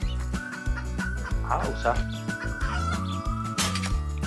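A video game chicken clucks and squawks a few times over background music, while a person speaks briefly in French.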